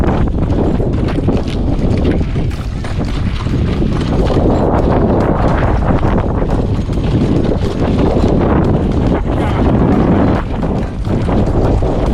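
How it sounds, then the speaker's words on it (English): Strong wind buffets the microphone continuously, a loud rushing roar with gusty swells throughout. "It is windy"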